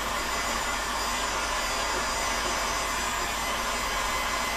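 A heat gun blasts steadily at close range while softening PVC pipe for a wood-elf bow, a dense continuous roar of rushing air with no talk over it.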